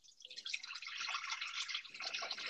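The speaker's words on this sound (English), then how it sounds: "I'm going to put in some water now" Water streams steadily into the mixing bowl of a Thermomix TM6 kitchen appliance, a close, bright splashing pour that runs continuously from start to finish with no talking.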